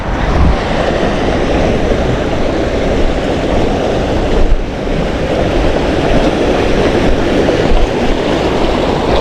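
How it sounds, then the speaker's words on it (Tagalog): A strong, fast-rushing water current roars steadily and loudly throughout, a dense unbroken wash of turbulent flow with some wind buffeting on the microphone. "Ang lakas ng agos."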